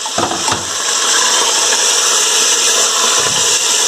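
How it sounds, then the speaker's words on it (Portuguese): Large onion sliced into rings sizzles in a hot pan, a steady loud frying hiss after a couple of brief clunks at the start. "Vou mandar uma refogada aí nessa cebola."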